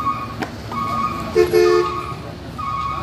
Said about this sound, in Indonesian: Terus ada truk kencang dari sana,